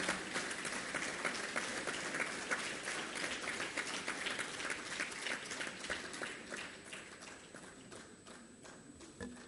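A dense wash of audience applause at the inauguration function of the 72nd AIOC 2014, steady and sustained throughout with many hands clapping, fading slightly toward the end.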